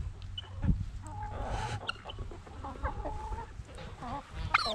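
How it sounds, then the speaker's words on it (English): Several chickens clucking and squawking close by in a backyard flock while being fed treats, with overlapping calls and occasional sharper cries throughout. "That chicken will get you."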